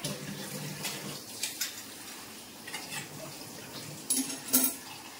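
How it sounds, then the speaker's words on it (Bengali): Tea strained into a cup in a home kitchen: a soft, steady trickle of pouring liquid with a few faint clinks of a strainer or cup, quiet and close, with no talk. "তো চাটা এবার ছেঁকে দিই"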